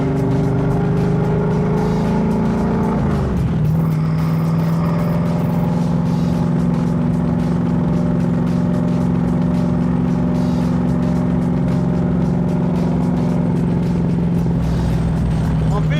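A car drives on small winding roads with tight bends. A loud, steady engine drone holds a constant pitch and dips briefly as the gears change, close and continuous throughout.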